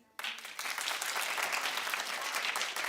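A studio audience breaks into sudden, sustained clapping right after a short pause, a dense wash of many hands carrying on steadily to the end.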